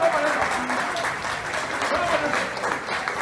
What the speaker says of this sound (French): on va demander de les applaudir très fort